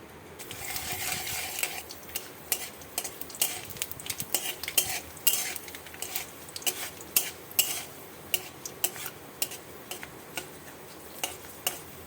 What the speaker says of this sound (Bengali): তেলটা গরম হয়ে গেছে, এবার আমি শুকনো লঙ্কার মেথিটা ফোড়ন দিয়ে দিচ্ছি।